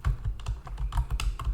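Typing on a computer keyboard, a quick run of close, light key clicks in an irregular rhythm, alone without talk.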